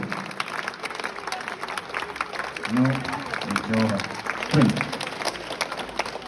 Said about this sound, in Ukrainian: Оплески Криму!